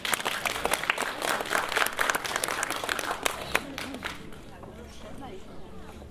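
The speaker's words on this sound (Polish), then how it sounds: "Wielkie brawa." An audience applauds at the official ceremony of a University of the Third Age 10th anniversary jubilee, a dense burst of many hands clapping that gradually thins and fades.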